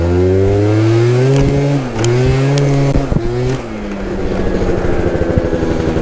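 A small scooter engine buzzes loudly up close at night, its pitch rising and dipping as it accelerates over a pothole, then shifting to a rougher, sputtering drone.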